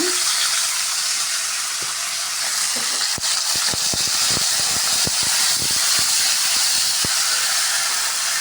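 Spices spluttering and crackling in hot oil in a pan for a Tamil traditional dish, a steady dense sizzle with scattered sharp pops throughout, close and fairly loud with no voices.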